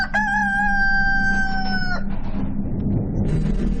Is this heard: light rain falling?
no